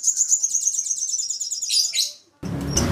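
Songbirds at a small bird kiosk chirp in a rapid, high, continuous stream of close tweets, then give way to a burst of broadband noise.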